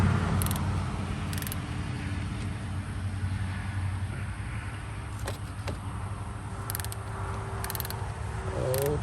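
A wrench used as a ratchet while removing a starter solenoid on a Suzuki Samurai, with a few sparse mechanical clicks over a constant low hum.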